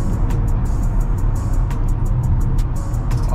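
A Porsche drives along city streets, giving a close, steady engine and road rumble that holds at an even level throughout the short stretch, with faint clicking ticks on top.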